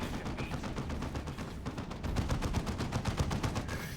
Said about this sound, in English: a D-cannon is getting shots on this turret